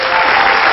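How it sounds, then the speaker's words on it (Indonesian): A brief burst of dense studio audience applause from a comedy talk show, loud and steady with no voices on top. "Tepuk tangan."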